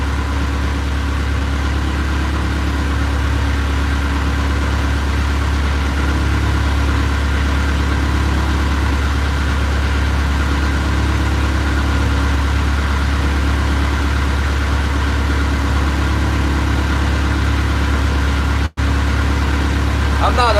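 A salmon-trolling fishing boat's engine runs steadily at slightly raised RPM, a loud continuous low drone with a strong tonal hum that stays unchanged throughout.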